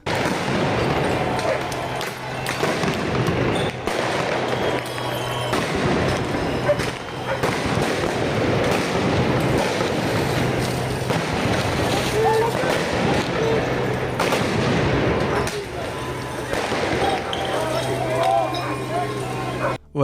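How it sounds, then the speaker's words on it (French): Fireworks launched from mortars at police during the Carnaval de la Plaine street festival in Marseille, 2024: repeated sharp bangs and crackling bursts over a loud, busy crowd din, with voices throughout. "on balance à coups de mortier des feux d'artifice sur les flics"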